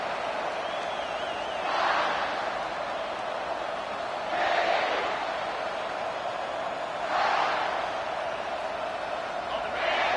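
A football stadium crowd roars in broad swells every few seconds, rising and fading over a steady wash of noise, with distant and loud crowd sound throughout.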